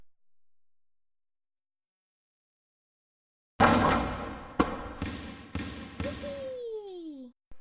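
A ball tossed into a basket in a children's educational video game lands with several loud bouncing thuds in a quick run, followed by a falling cartoon whistle tone.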